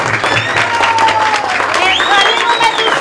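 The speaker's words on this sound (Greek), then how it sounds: "Χειροκρότημα!" Students and families applaud at a Trikala secondary school World Poetry Day event, loud sustained clapping filling the room while voices and a few whistles ring out over it.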